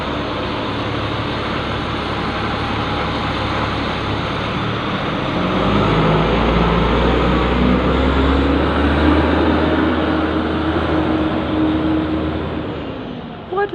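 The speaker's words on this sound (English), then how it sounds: "listen to that, just a truck just going along the street" Truck driving along a street, a continuous loud engine rumble that swells as it passes close by and then eases off, heard alone.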